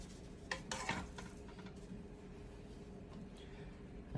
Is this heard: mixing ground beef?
yes